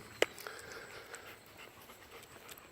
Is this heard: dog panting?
yes